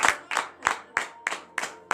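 Congregation at a Friday morning prayer service in Benin claps in a steady slow rhythm, seven sharp unison claps about every third of a second, close and clear with no talk over them.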